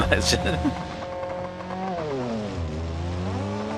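A car engine in the BeamNG driving game climbs in a slow rev-up after an initial rasping burst, its pitch dipping then rising steadily while someone talks over it.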